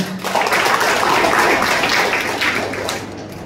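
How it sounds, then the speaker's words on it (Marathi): A crowd in a lecture hall on Chhatrapati Shivaji Maharaj applauds loudly, steady dense clapping holding for a few seconds before tapering slightly at the end. "याचा जोरात टाळ्या वाजवा आता."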